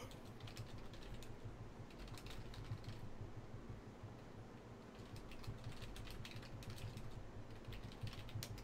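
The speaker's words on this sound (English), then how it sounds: "What are you typing?" Rapid, steady clatter of fingers typing on a computer keyboard during a live horror-game session, continuing evenly throughout at close range with no talk.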